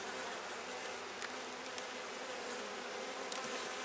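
Honey bees swarm around an open hive with a brood box exposed, a dense continuous buzzing hum close by, with occasional individual bees zipping past the microphone.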